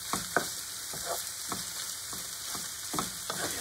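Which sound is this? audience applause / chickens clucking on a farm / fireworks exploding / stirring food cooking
stirring food cooking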